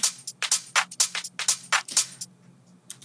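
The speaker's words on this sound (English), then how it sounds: "And I added this UK garage kind of loop." A UK garage style drum loop of crisp, noisy hi-hat and shaker hits in a swung, skipping pattern, with a faint low hum beneath, plays alone at moderate level and thins out near the end.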